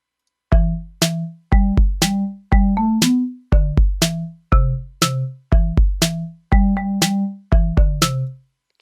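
A Chrome Music Lab Song Maker tune plays bright synthetic melody notes over a steady, punchy electronic drum beat, the pattern repeating in short bars, loud and clean with no voices.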